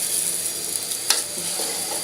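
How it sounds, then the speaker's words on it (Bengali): Polao rice fries and is stirred in a pan, giving a steady close sizzle with a few soft scraping stirs and one sharper clink partway through. "সুন্দর করে ভাজবো চালগুলো। পোলাওয়ের চালগুলো নেড়ে দিচ্ছি।"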